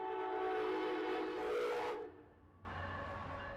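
A passing train sounds a loud, sustained whistle that cuts off, pauses briefly, then blares again, close and steady with no talk over it.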